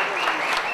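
A brief swell of crowd applause at a photography festival stage, dense even clapping that fills the whole moment with no break.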